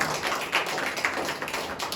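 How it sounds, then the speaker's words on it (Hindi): Church congregation clapping loudly in praise during a Hindi-language worship sermon: a dense, continuous patter of many hands clapping together, fairly close and steady, with a few sharper claps standing out. "आइए परमेश्वर के लिए जोरदार ताली बजाएं।"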